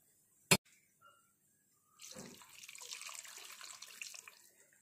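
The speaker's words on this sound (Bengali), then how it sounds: "এবার আমি আলুগুলো দিয়ে দেবো। সামান্য গরম জল দেবো।" Hot water pours onto potatoes in a cooking pot, a sharp click first, then a few seconds of quiet before a soft, steady splashing gush that keeps going.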